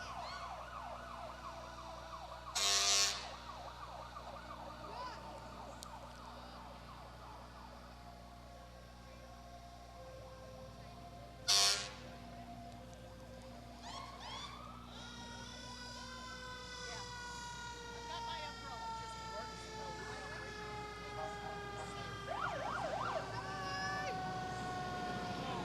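Royal Oak Fire Department engine sirens wailing steadily at a Memorial Day parade, rising and falling, with occasional loud horn blasts, heard from a moderate distance.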